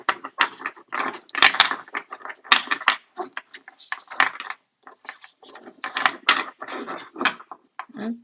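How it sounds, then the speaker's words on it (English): A deck of cards is shuffled for a tarot yes-or-no reading, giving dense bursts of riffling and snapping cards that come close and fairly loud in quick uneven runs with short gaps, and no talk. "I'm going to go ahead and shuffle the deck one more time"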